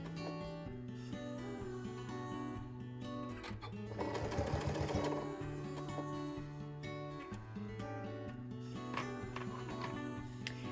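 A sewing machine stitching fabric slowly and steadily, its close mechanical whirring and rhythmic needle clatter running continuously with a brief faster burst midway, no talking.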